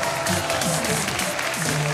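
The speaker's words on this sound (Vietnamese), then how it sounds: "xin các bạn sinh viên hãy dành một tràng pháo tay để chào đón đại diện các thầy cô" Applause from a student audience at a Vietnamese campus talk event welcoming faculty representatives, a steady, dense wash of clapping that holds for about two seconds, with a faint voice underneath.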